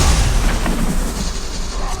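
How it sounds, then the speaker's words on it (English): A shot barrel bursting into flames in a video game gives off a dense, loud, continuous roaring blast of fire that fills the moment without pause. "Let's start by shooting this barrel here. That's gonna light everything on fire."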